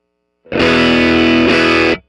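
Electric guitar through an MZO Effects Ohm Enhanced Overdrive v2 with the control turned all the way up strikes a fizzy, bright overdriven chord, then restrikes it once before it is cut short, loud and close.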